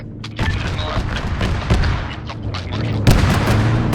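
Gunfire and artillery in the military game Arma 3, several heavy booms and sharp reports scattered through the clip over a busy background, with voices talking over the battle.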